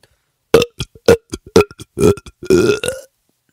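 A series of loud, wet, gurgling belches, several short bursts followed by a longer drawn-out burp, heard up close with no talking.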